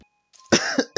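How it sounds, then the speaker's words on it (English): Coughing from a person playing Mario Kart 8 Deluxe online: a sharp, close cough burst followed by a second quick cough, loud and dry, with nothing else around it. "I just kept coughing."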